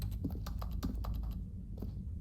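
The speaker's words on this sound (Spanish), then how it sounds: "Me encanta que el sonido de acción es como un teclado." Soft keyboard-like clacks serve as the action sound in The Stanley Parable: Ultra Deluxe, a quick run of a dozen or so taps with no one speaking.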